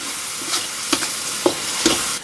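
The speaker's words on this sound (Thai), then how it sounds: "แล้วก็คลุกเคล้าให้เข้ากันได้เลยนะครับ" Sugar, oyster sauce, five-spice powder, ground pepper and sauce being stirred together in a pan, giving a few separate scraping strokes over a low, steady sizzle. No one speaks.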